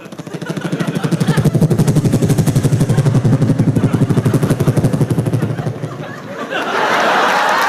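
A voice imitates a helicopter in a live comedy stand-up routine, a loud, fast regular chopping pulse held for several seconds before it breaks off and the crowd starts reacting.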